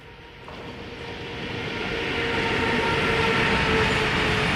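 A goods train rumbles past on a railway line, its steady roar swelling louder and closer over several seconds with a faint tonal hum.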